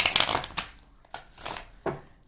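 A few quick papery riffling bursts of tarot cards being shuffled, close and fairly soft, separated by short pauses.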